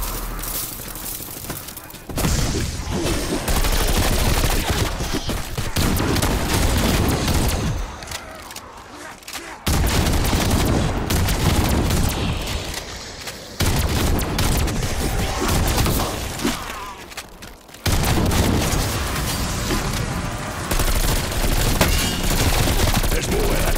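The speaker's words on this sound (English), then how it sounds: "Engaging with death machine." Death Machine minigun in Cold War Zombies firing long, dense sustained bursts with brief pauses between them, loud and close.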